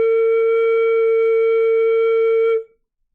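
A flute head joint blown with its open end covered gives one steady, pure tone that holds for about two and a half seconds and then stops abruptly, alone and close.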